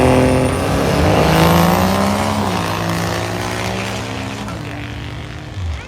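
A 1990 Dodge D150 diesel truck drag racing against a 1967–68 Camaro at a Michigan dragstrip, loud engine roar with rising and shifting tones, sustained at close range throughout.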